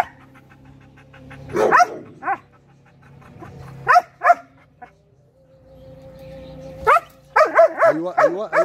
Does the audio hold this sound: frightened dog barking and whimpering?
yes